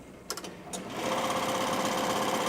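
A ZSK embroidery machine resumes stitching a design after the start button is pressed: a few clicks, then a steady, loud, rapid mechanical whirring and chatter running continuously to the end.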